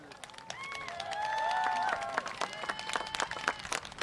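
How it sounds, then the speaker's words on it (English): A crowd at a high school homecoming halftime show applauds the underclassmen court, scattered clapping and crowd noise swelling and then breaking into uneven bursts, with an announcer's amplified voice echoing over it. "Please give a big round of applause for our underclassmen court."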